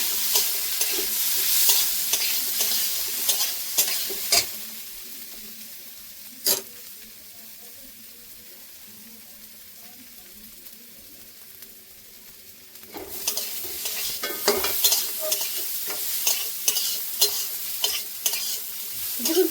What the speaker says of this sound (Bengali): এবার চালটাকে সুন্দর করে ভেজে নেব।